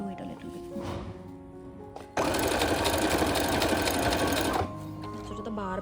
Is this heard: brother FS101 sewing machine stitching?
yes